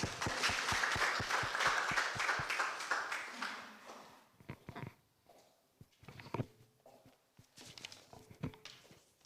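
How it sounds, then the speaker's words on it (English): People at a foundation retreat applaud an arriving guest in rhythmic, fairly close clapping that fades after a few seconds, followed by scattered footsteps and quiet movement. "as she comes, let us applaud her"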